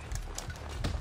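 A galloping horse in Assassin's Creed 2, hooves clip-clopping in a quick, even rhythm with dull low thumps, close and continuous for the whole second.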